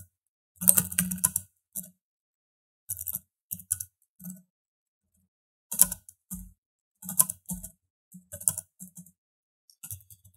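Bursts of typing on a computer keyboard while entering a password into a register form, quick clustered key clicks separated by short pauses, close and clear with no talking.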